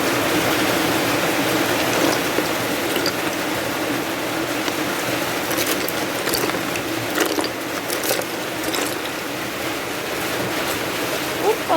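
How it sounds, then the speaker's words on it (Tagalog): Heavy rain pouring down in a steady, dense roar of hiss, close and unbroken for the whole stretch, with faint voices underneath. "Grabe ang lakas ng ulan."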